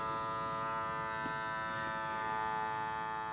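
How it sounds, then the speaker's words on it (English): An electric vacuum sealer sealing a mason jar lid runs with a steady, even motor buzz and a hum throughout, fairly quiet and unbroken, with no talk. "And that sound is sealing the jar."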